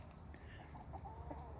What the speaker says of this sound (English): It's a prime example of a chicken right there.